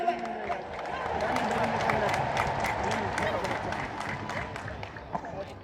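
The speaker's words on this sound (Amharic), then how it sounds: "እልል በል።" Crowd at an outdoor church festival gathering, with voices rising in a sustained trilling ululation over clapping, loud and steady throughout with a few sharper claps near the end.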